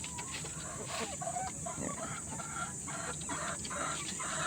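Texas breed roosters and mestizo chickens clucking together in a farm pen, a steady layered chorus of overlapping clucks with no single crow standing out, continuing at a moderate level throughout.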